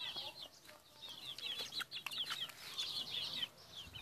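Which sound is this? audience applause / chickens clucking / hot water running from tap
chickens clucking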